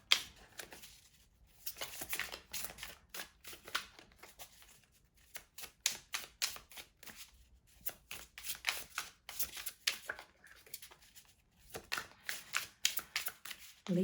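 Tarot cards being shuffled nearby in quick crisp bursts of riffling and flicking, separated by short quiet pauses, with no talking.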